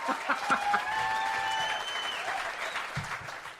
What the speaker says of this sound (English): you're supposed to do the cheering, the applause, Benny